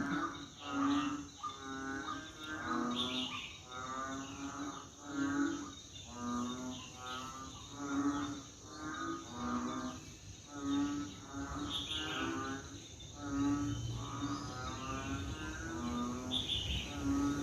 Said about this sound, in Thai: เสียงอึ่งอ่างร้อง